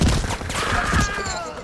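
Gunfire in a Portuguese-language online shooter game, a dense burst of shots that fills the short moment and stays loud and continuous throughout.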